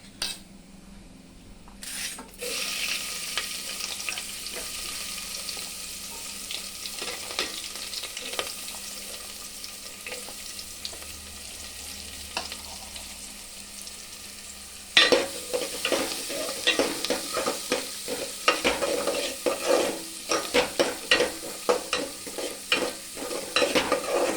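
Onions frying in ghee with cumin seeds, a steady close sizzle with frequent stirring, utensil scrapes and clinks against the pan that grow busier and louder partway through; no one speaks.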